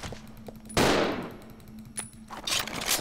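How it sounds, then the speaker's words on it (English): Gunfire in Resident Evil 0 during a fight with the Proto Tyrant: a loud burst of shots strikes hard, rapid fire crackles and echoes after it, and more shots follow near the end. "Let me get some shots in."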